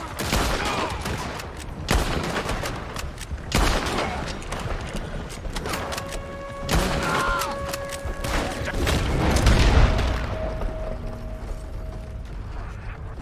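Gunfire in Red Dead Redemption 2 during a shootout: scattered sharp shots and bursts over a busy bed of mechanical clicks and rattles, with sustained tonal game sounds in the middle.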